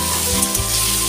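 Tomatoes frying in a pan while being stirred, a loud close sizzle with a couple of quick spatula knocks in a brief burst, no speech.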